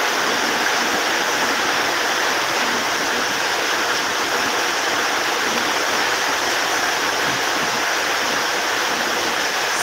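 Heavy rain falling steadily and close by, a dense, constant broadband wash with no pauses or voices.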